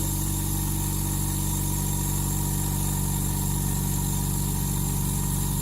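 A Lakoni Basic 9S oilless air compressor motor runs continuously with a steady, smooth mechanical hum and buzz, close and constant throughout.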